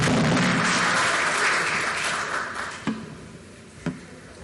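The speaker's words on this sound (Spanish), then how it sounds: "Un fuerte aplauso para Ricardo Hausmann." Audience applause at a Lima economic conference, greeting Harvard's Ricardo Hausmann as he takes the stage; dense, sustained clapping that fades over several seconds, with a couple of sharper knocks near the end.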